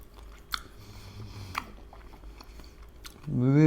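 Crunchy cream-filled Egyptian sweet pastry being bitten and chewed close to the mouth, with a few crisp crunches at an even pace before a voice begins at the end.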